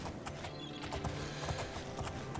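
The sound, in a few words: horse hooves clip-clopping in video game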